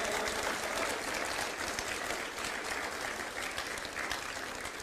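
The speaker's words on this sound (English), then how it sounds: "Come on, clap, clap," Church congregation clapping during a sermon, a continuous wash of many hands at even, moderate loudness throughout.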